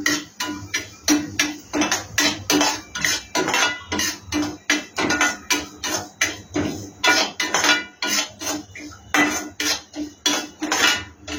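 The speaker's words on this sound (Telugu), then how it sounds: "ఇప్పుడు సిమ్లోనే పెట్టుకొని ఈ రవ్వ అయితే వేసుకుంటున్నా." Roasted semolina (rava) for moong dal halwa going into a pan on a low flame, with a metal spoon clinking and scraping against the pan in a steady, loud, repeated rhythm and no talking.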